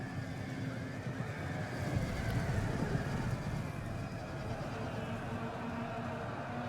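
Cavalry horses in the game Total War: Rome 2 whinny over a dense battle din of hooves and rumbling noise, a sustained, moderately loud neigh running through a busy mix.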